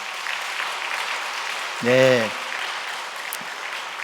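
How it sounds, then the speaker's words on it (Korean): Steady applause fills a Korean Sunday church service, with a congregation clapping throughout while a single voice briefly speaks over it midway. "우리 인사할 때 축하도 하고 또 격려하면서 박수 쳐주"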